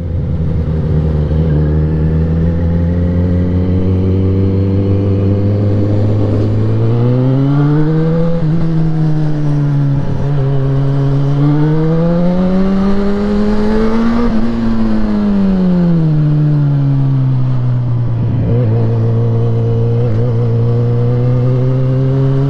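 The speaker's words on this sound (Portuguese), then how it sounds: "parece que o trânsito daqui é meio confuso também" Busy street traffic at the top of a city avenue, a loud, steady engine drone close by that rises and falls in pitch as vehicles accelerate and pass, with no talking.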